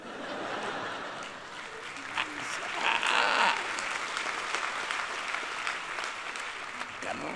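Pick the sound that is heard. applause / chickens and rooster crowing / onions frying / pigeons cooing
applause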